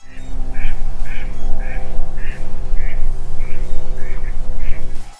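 Ducks quack in a quick, regular run of about ten loud, close calls over a constant low engine-like hum.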